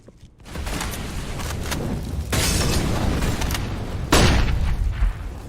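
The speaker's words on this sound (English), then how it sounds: "The flashbang works out just fine." Flashbang grenades detonate in Counter-Strike on the Mirage map: two loud, sharp blasts about two seconds apart, each a burst of harsh noise over continuous game sounds.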